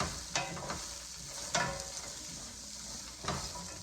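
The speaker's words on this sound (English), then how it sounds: "Nice sizzle, and our frozen peas in there." Vegetables and frozen peas sizzle while sautéing in a pan, a steady quiet hiss broken by a few scraping stirs.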